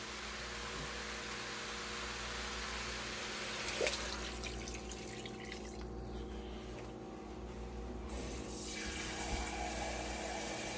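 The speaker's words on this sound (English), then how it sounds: "Now I have about 4 cups of hot water. We're going to pour in here and bring this to a boil." Hot water poured into a pot for chicken gizzard stew, a steady watery pour and splash running throughout at moderate level, with a brief clink near the start and no talking.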